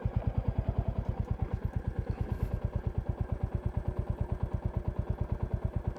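A Royal Enfield Classic motorcycle ridden off-road over bumpy ground in morning light, its engine giving a steady, rapid, close thumping pulse that stays even throughout with no voices.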